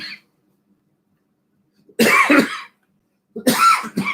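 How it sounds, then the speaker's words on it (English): Two separate coughs, close and loud, with silence between them and a brief sound at the very start. "Coughing."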